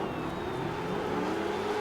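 A rally truck engine drones steadily in the racing game Dirt 4, a constant close whir at a moderate level with no voices over it.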